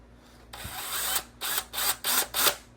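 Short bursts from a power tool deburring a freshly drilled hole, four or five quick whirring pulses close by, each rising and cutting off in a stuttering rhythm after an initial longer run.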